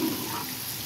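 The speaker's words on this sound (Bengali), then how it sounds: "আমরা এখন মশলা দেব, মশলা কষাবো।" Masala spices frying in a pan while a chicken dish is cooked, giving a steady close sizzle with faint stirring, and no voices.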